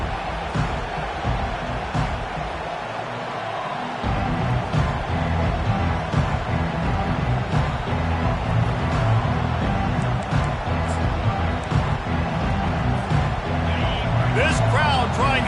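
Stadium crowd roar in the college football video game NCAA 25, a loud, steady wash of noise running under continuous commentary.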